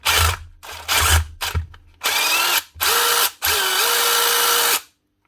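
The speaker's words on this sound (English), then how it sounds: "One DeWalt impact driver." A DeWalt impact driver in a workshop fires in several bursts, short hammering runs at first, then longer loud whirring stretches with a rising whine, separated by brief pauses before falling silent.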